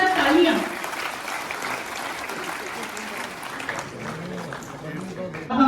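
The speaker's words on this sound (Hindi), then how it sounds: "जोरदार तालियां" Applause at a World AIDS Day ceremony in Jammu, loud clapping from the audience that starts strongly and settles into a steady patter, with voices of the crowd mixed in.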